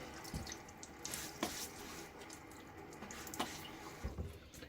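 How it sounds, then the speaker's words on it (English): Water splashed onto a face by hand before a wet shave at a sink, faint wet splashes and drips coming in a few quick bursts over a quiet running-water background, with no talking. "Now I will splash my face a little bit."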